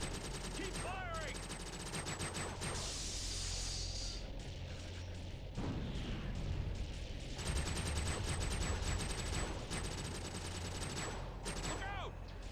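Sustained, rapid gunfire from a battle against the Splitters in TimeSplitters: Future Perfect on the GameCube. Dense bursts of shots stay loud throughout and blend into a continuous fusillade with a few sharper cracks.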